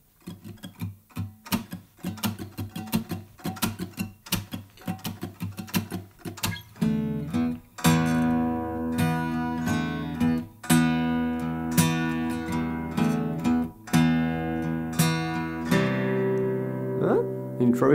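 Guitar song demo recorded on an iPhone: picked and strummed notes start sparse and percussive, then fuller sustained chords ring on, close and intimate with no talk.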